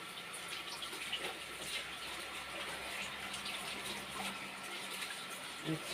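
Vine leaves rinsed one by one under a running tap, a steady, fairly faint rush of water splashing into a sink, continuous and close with no voices.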